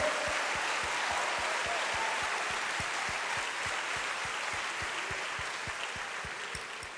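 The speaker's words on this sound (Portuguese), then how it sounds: "Aplauda o Senhor." Congregation applauding at a Sunday church service, sustained dense clapping with a steady rhythmic beat running through it, loud and continuous throughout.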